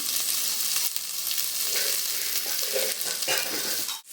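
Onions and dried red chillies sauté in a pan for a spicy Tamil stir-fry, giving a steady close sizzle with occasional stirring scrapes and no talk.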